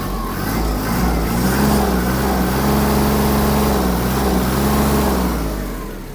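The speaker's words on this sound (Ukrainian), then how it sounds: "Погазуємо трохи." A Kubota KT-27 Japanese mini tractor with a cab, its engine revving steadily at raised speed, loud and close, with a continuous droning hum that holds for several seconds and eases slightly at the end.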